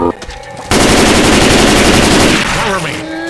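Rapid rifle fire rattles out as a loud, continuous burst in the Left 4 Dead 2 video game, following a brief shout and trailing off as game sounds continue.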